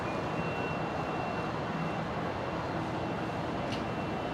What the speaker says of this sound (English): There is Qantas 126, the 330 coming in from Auckland